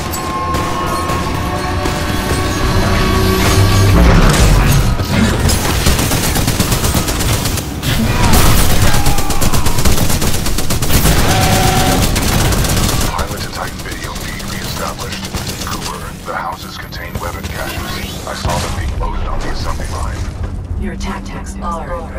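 Heavy artillery and rapid automatic fire in the shooter game Titanfall 2: dense, loud bursts of gunfire and booming impacts, more intense at first and then easing into lighter shots and mechanical clatter.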